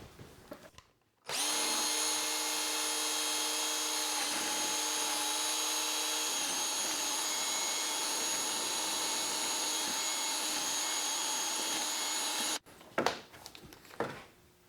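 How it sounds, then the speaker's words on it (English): A power drill fitted with a mixing attachment churns ceramic slip for slip-cast pottery: a loud, steady whine starting abruptly, running about eleven seconds with a slight pitch drop partway, then cutting off into quieter handling noise. "And I have an attachment for my drill that I use."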